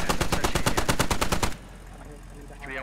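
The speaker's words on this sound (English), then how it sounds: "Oh, Glock's taking shots at him. He's got that he's got the AR, Glock does, so he's got plenty of ammo to sling at him." Rapid automatic AR rifle fire in the video game Squad, a steady burst of evenly spaced loud shots that stops abruptly, leaving faint background noise.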